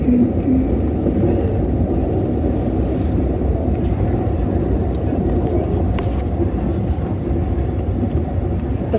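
A moving train rumbles steadily along the rails beneath passengers in a tunnel approach, a continuous low roar with faint metallic squeals and clicks, heard from inside a coach.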